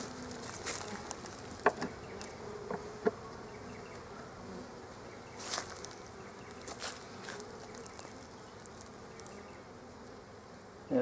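Honey bees buzz around an opened hive, a faint steady drone with individual insects passing close now and then and small knocks of handling, no voices.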